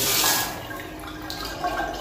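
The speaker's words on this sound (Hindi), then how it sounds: "ये देखिए, ये इसमें से पानी आ रहा है।" Water runs from a tap just repaired at home with a new spindle, a steady close splashing flow that is loudest at first and then settles slightly, with no talking.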